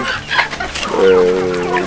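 Chickens cluck loudly and close by on a small livestock farm in Togo, with short squawks followed by a sustained, drawn-out call.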